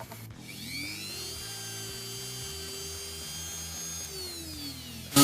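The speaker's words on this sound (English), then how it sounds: "I'm really scared of hitting the inside too much when I Dremel it out" Dremel rotary tool grinding into the plastic elbow joint of an action figure, a steady high whine that holds its pitch for several seconds with a faint grinding rasp underneath, then spins down at the end.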